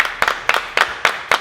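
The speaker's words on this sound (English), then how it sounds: "Hey, brothers, let's clap it up" A group of men claps in five sharp, evenly spaced bursts, each a ragged cluster of hands, loud and close with no talk.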